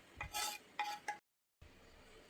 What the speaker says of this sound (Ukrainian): Все ретельно перемішаємо